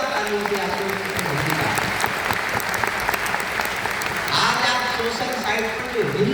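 A hall audience breaks into sustained, loud applause, dense clapping continuing steadily throughout with a voice speaking over it.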